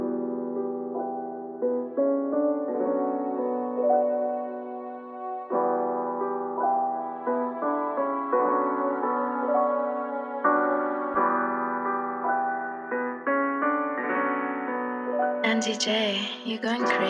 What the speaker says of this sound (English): I added this love filter automation clip in right here